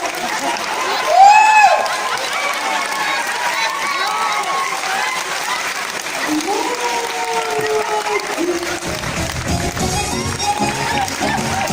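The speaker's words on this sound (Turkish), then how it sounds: "Sizin alkışlar dostlar" A concert audience applauds a performance, with sustained, dense clapping throughout, a brief rising whistle-like tone near the start, voices mixed in, and faint musical tones toward the end.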